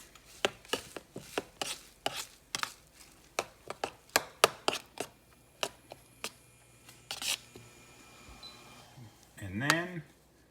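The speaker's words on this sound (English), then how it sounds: "Stir it up a little." Black bean noodles being stirred with sauce, giving a run of sharp, clicking and scraping strokes at an uneven rhythm, close and fairly loud, with a short voice-like burst near the end.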